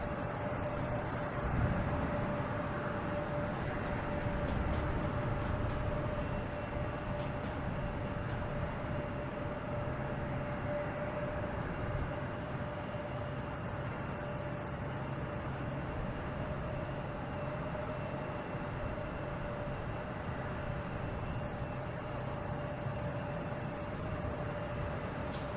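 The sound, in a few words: Cape Air plane taking off at Boston Logan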